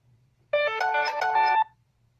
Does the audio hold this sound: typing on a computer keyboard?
no